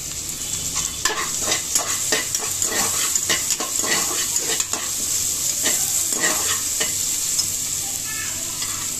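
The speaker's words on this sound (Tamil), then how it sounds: "வெங்காயம், அடுத்து கருவேப்பிலை போடுறேன்." Onion and curry leaves fry in hot oil with a loud, continuous sizzle and hiss, while a utensil stirs and taps the pan now and then.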